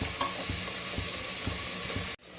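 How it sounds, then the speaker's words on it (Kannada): Onions frying toward golden brown for mutton dum biryani, a steady close sizzle with soft, regular stirring scrapes, cut off abruptly near the end. "ಈರುಳ್ಳಿ ಗೋಲ್ಡನ್ ಬ್ರೌನ್ ಆಗೋವರೆಗೂ ನಾವು ಫ್ರೈ ಮಾಡ್ಕೋಬೇಕು."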